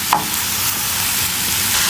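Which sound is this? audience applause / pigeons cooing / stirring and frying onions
stirring and frying onions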